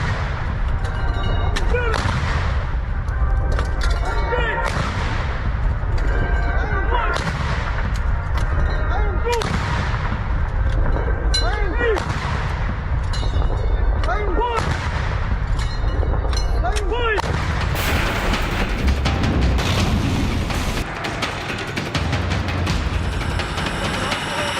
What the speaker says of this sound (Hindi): लेकिन ये जो गर्जना है, तोपों की आवाज है, इसे भी सुनना चाहिए।